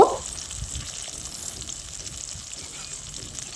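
Hilsa fish frying in mustard oil with slit green chillies, a steady soft sizzle close by, with faint stirring and no talking.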